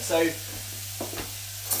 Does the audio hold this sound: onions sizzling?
yes